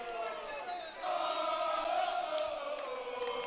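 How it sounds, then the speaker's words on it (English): A crowd at a Wittenberg finals wrestling match roars and cheers steadily for the whole moment, the noise swelling louder partway through and holding at a dense, continuous level. "SAR crowd getting into it."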